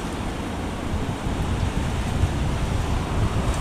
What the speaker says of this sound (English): Don't know if you can hear the waves crashing at the moment